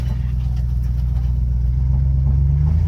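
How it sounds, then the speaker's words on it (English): A 1977 Chevy K5 Blazer with a loose U-joint driving along a rough track, its engine giving a steady low rumble throughout; no distinct clunks stand out. "there's a little bit of a clunking in there. That's I think a loose U-joint or something hitting something."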